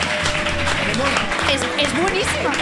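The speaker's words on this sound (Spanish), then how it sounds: "¡Un aplauso, por favor, enorme!" Audience applause at a lively live show in Spain, steady dense clapping throughout with a voice and music-like tones running over it.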